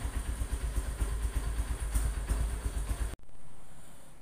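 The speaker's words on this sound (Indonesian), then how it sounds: "Nah motor hidup teman-teman ya." A manual-clutch motorcycle engine starts and runs at a steady, loud, close rattling idle, then cuts to a quieter, duller hum.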